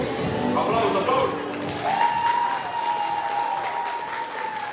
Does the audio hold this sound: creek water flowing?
no